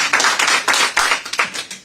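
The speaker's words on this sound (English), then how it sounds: "I'll wait till the clapping's done." Audience clapping at a Senate hearing, a dense, loud burst of many hands applauding continuously with uneven surges, heard alone without talk.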